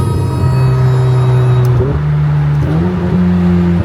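A car engine runs loud and close, holding a steady droning pitch, then rising in stepped revs as it shifts between gears, with no voices.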